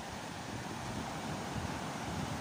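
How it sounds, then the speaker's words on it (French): Small waves wash steadily onto a calm shore on a windless day, a continuous soft hiss and rumble with no speech. "il y a quelques petites vagues, mais c'est rien du tout"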